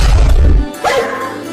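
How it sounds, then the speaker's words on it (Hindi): Cartoon dogs barking in a short burst at the start, loud and dense, followed by a brief thump and quieter background sounds. "बाहर बहुत सारे कुत्ते घूम रहे हैं।"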